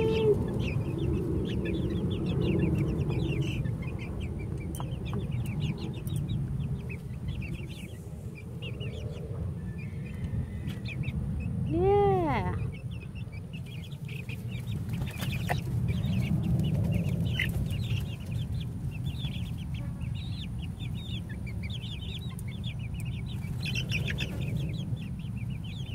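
Four-week-old Ameraucana chicks and their mother hen cluck and cheep steadily outdoors on grass, with dense overlapping bird calls and one brief rising squawk partway through, and no talking.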